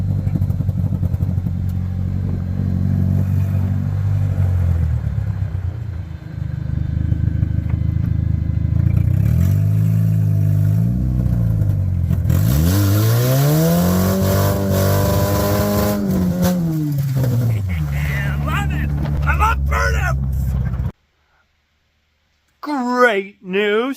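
A race car driven back and forth across a field, its engine roaring loud and close, revving up and down through the gears, before cutting off abruptly into silence followed by a short sound at the end.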